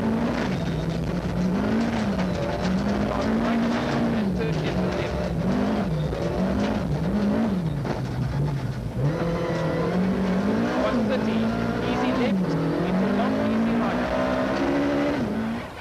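A Volkswagen rally car drives flat out on a forest special stage, its engine roaring loudly and continuously with rising and falling revs as it shifts gears, under a commentator's voice.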